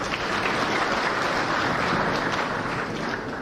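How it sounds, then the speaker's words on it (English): Audience members at a Mt Kenya Foundation meeting clap in support of the speaker, giving a steady wash of applause that stays fairly even and moderately loud across the whole stretch, with no speech over it. "I hear that the clap is to support what I am saying."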